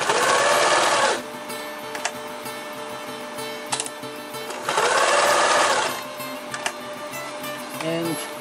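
A sewing machine stitches an EDC organizer in two loud, close bursts of rapid mechanical clatter, separated by quieter handling sounds and a few sharp clicks.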